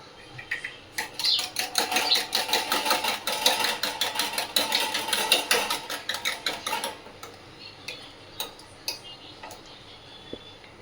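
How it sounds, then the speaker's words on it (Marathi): Eggs being beaten in a bowl with a rapid, steady rhythm of clicking strokes that fades out partway through, close and fairly loud, while a griddle heats on the gas stove. "तवा चांगला तापला की तेल चांगलं, तोपर्यंत अंड फेटते"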